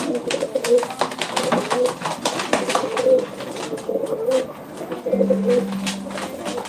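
Pigeons coo repeatedly nearby at a live pigeon auction in Ankara, soft throaty calls overlapping one another amid light rustling and fluttering.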